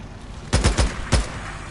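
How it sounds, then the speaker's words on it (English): Enemy gunfire in the video game Days Gone: four sharp, close shots in quick succession, three bunched together and a fourth after a short gap, over a quiet background. "He's still shooting at me."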